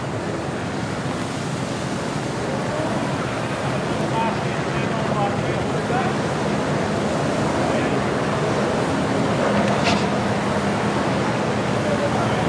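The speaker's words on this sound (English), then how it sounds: "See, it's just a lot of the waves." Ocean waves hitting a racing yacht at the start of the 2022 Sydney Hobart Yacht Race, a continuous loud wash of surf and wind noise with faint voices under it.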